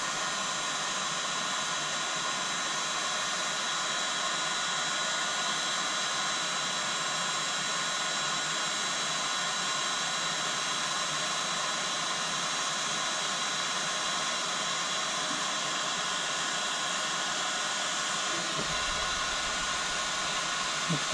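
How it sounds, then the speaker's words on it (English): A standard hot air gun blows a steady, loud, unbroken roar while heating the seat heater element of a 2002 Volvo car seat, with no talk over it. "Standard hot air gun."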